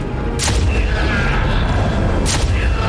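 A loud, continuous rumbling explosion roar in the video game Fortnite, with deep low-end boom and a couple of sharp crackling bursts layered over it.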